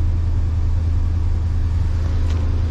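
A Hustler Super S 52 mower engine running at fast idle, a steady low rumbling drone with no pauses, close and fairly loud for the whole short stretch.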